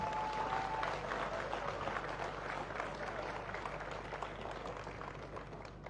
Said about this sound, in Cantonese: 俾佢哋陸兆福一個鼓勵嘅掌聲